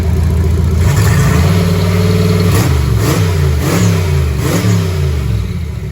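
A car engine fitted with a new MSD Pro Billet distributor and Blaster 3 coil revs repeatedly from a loud idle, several rising and falling throttle blips close to the microphone.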